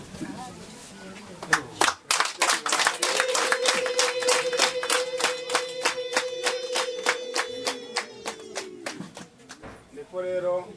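An audience at a Rwandan traditional gufata irembo ceremony claps in a steady, rhythmic beat for several seconds while a voice holds a long sustained note. Talking comes before and after the clapping.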